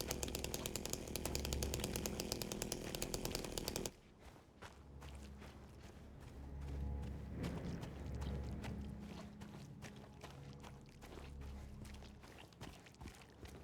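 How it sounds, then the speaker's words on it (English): A chainsaw in the Silent Hill 2 Remake video game buzzes loudly and rapidly for about four seconds, then cuts off, leaving footsteps and low rumbling game ambience. "Grabbing the chainsaw, because this is New Game Plus."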